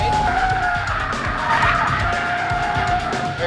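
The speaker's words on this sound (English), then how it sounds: "Have we had enough drifting?" A car drifts with its tires squealing and skidding under a loud, revving engine. The screech holds steady across a few seconds, close by.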